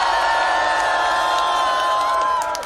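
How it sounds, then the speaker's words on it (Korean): A political rally crowd at a Democratic Party campaign stop in Cheongju keeps up steady applause and cheering, a loud, dense wash of sustained noise with no break. "박수와 함성"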